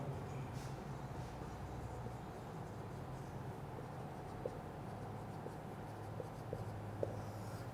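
Chalk or a marker writes a 3x3 matrix on a classroom board, making faint, scattered taps and strokes over a low, steady room hum.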